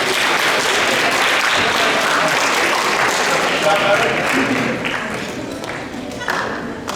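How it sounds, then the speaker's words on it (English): Students and guests at a school career exploration talk give a loud round of applause that thins out toward the end, with some voices mixed in under the clapping. "Get a round of applause."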